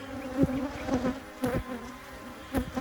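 Honeybees buzz close up at a hive entrance, a dense continuous drone with individual insects swelling louder as they pass near.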